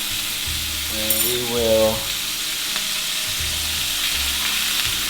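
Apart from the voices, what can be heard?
potatoes, garlic and onions frying in a pan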